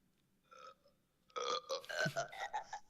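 A burp sound sample played back on a phone: a short faint blip, then a longer, louder, throaty belch with rough gurgling texture, no talking over it.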